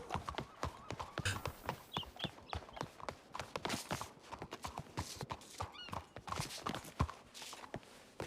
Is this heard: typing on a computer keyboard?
no